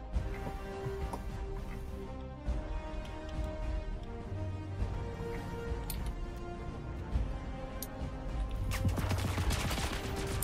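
Rapid submachine gun fire in the Star Citizen video game, with dense overlapping bursts of shots that keep up steadily and swell louder toward the end, set amid ongoing in-game noise.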